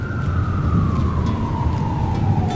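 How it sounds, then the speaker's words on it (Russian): A siren wails steadily over loud, dense traffic rumble on Kutuzovsky Prospekt, its tone slowly gliding downward across the few seconds. "Вы слышите сирены?"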